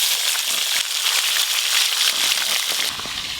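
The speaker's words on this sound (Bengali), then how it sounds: "মাছ ভাজা ভালো করে হয়ে গেছে" Fish sizzling and crackling steadily in hot oil in a home kitchen, a dense continuous frying hiss close up with no talk.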